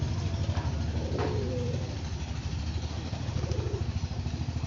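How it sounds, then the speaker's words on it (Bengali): Rajshahi pigeons from Bangladesh coo in soft, close, rolling phrases over a constant low rumble in the background. "এইটা বাংলাদেশের রাজশাহী পায়রা"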